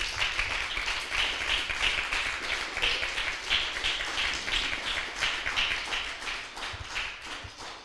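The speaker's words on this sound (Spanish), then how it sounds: "Denle un aplauso fuerte al Señor" A church congregation at a Spanish-language service claps in a strong, regular rhythm, the beats evenly spaced and continuing for several seconds as praise to the Lord.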